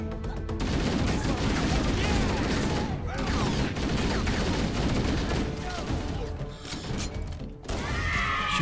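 Rapid bursts of gunfire in the video game Halo: Combat Evolved, dense and loud, with short gaps between volleys and brief gun and effect sounds layered on top.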